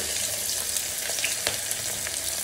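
Onion frying in hot oil with garam masala, a steady close sizzle with faint crackles and small stirring clicks throughout, no voices.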